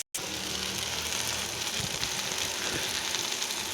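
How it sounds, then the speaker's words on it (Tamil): Onions sauté in a hot pan for egg masala, giving a steady, close, even sizzle with faint crackles throughout. "வதக்கிட்டே இருக்கலாம். நல்லா கோல்டன் ப்ரௌன் வரட்டும். நல்லா ப்ரௌன் கலரில் வரணும் வெங்காயம்."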